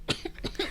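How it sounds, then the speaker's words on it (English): A single short cough bursts out near the mic, followed by a couple of softer throaty sounds, all within a brief moment in a casual podcast setting. "When people cough, you think they got COVID."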